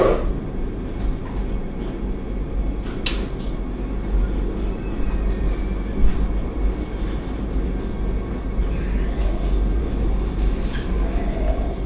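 An Ernakulam–Bengaluru Vande Bharat express runs nonstop after leaving Salem Junction, heard from inside the AC coach as a steady, loud low rumble with faint rattles and occasional knocks.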